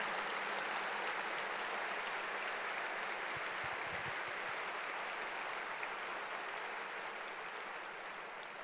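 A church congregation claps in steady, dense applause that fills the room evenly from start to finish and fades slightly toward the end.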